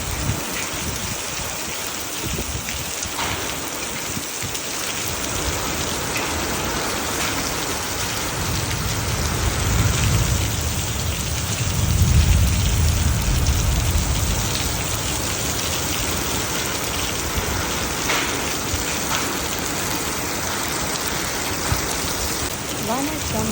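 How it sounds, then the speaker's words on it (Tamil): Steady downpour with strong wind in Rayavelur, a loud, unbroken hiss of rain striking surfaces nearby, with deeper gusting rumbles building through the middle. "கிட்டத்தட்ட பார்த்தீங்கன்னா ஒரு 20 நிமிஷமாக நல்ல காற்றுடன் கூடிய மழை"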